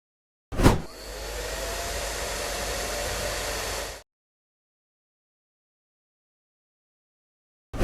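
Heat blower warming a Google Pixel 6a phone skin, a sharp click and then a steady loud blowing whoosh for about three seconds that cuts off abruptly into silence.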